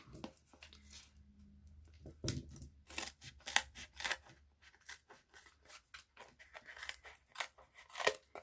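Scissors snip and trim cardstock for a stamped rainbow card, giving a string of close, crisp cuts and paper rustles at an irregular rhythm, fairly quiet.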